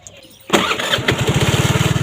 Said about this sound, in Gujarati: એક્ટિવાને સ્ટાર્ટ કરી દઈએ